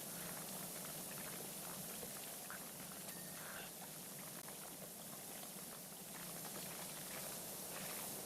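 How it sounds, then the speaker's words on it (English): Steady watery sloshing and bubbling fills the whole stretch, a dense continuous wash of liquid movement from a fountain being cleaned in a video game, loud and close with no talk. "I'm pretty sure Mason's the one doing the sloshing"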